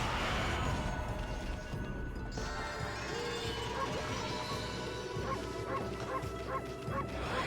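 A cartoonish dog barks repeatedly in the video game Okami, the yips and woofs blending with crashes and steady game music throughout.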